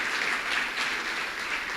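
A church congregation at a Christian service in El Salvador claps loudly and continuously, a dense wash of applause with no pauses.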